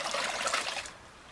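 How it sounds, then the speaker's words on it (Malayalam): Rice water (kanji water) pours and trickles onto bird's eye chilli plants in a steady splashing stream close by, fading out near the end. "എല്ലാ ദിവസവും കഞ്ഞിവെള്ളം അങ്ങോട്ട് കൊണ്ട് ഒഴിക്കുക"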